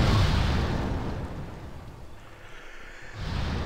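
A rocket that missed its target explodes, a deep rumbling boom that fades away and then swells again, heard from a distance with no talking.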